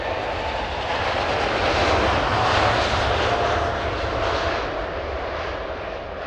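Steady, loud roar of a fixed-wing airplane's engines in flight, a broad continuous drone that swells slightly in the middle and eases off toward the end, with no voices.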